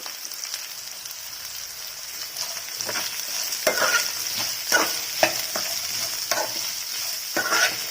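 Green chillies and chopped onions sizzle and fry in a pan, with a steady hiss broken by several louder scraping stirs from a spatula, heard close with no voices.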